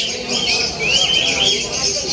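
Caged birds at the Grotto Pet Market in Bulacan, with bright chirps and whistling calls rising over a busy market hum and faint background voices.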